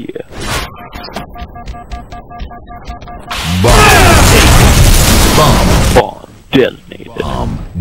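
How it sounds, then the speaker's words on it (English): A bomb detonates in the video game Halo Reach Grifball, a loud, sustained roaring explosion lasting a few seconds, set among game sounds, sharp thuds and players talking. "Bomb detonated. Round over."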